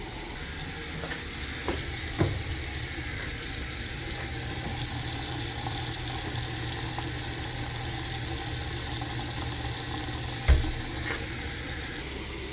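Water from a household main line flushes through a hose into a floor drain during a water filter installation, a steady rushing hiss that runs on evenly, with a couple of faint clicks and knocks.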